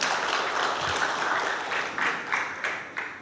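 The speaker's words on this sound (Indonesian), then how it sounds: "boleh tepuk tangan." An audience at a cultural speech in Indonesia claps steadily, the applause fairly close and full before breaking into a few scattered, louder claps as it winds down.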